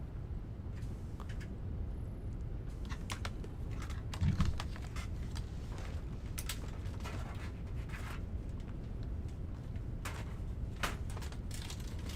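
Quiet, rapid computer keyboard typing in short clustered bursts of clicks across the whole stretch, close to the microphone, with a faint low room hum underneath and no talking.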